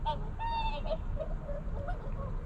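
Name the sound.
swans calling at Lake Saroma, Hokkaido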